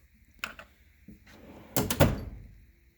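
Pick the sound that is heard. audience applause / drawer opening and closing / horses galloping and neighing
drawer opening and closing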